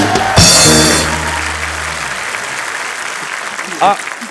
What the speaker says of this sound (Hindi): वरुण और आलिया के लिए जोरदार तालियां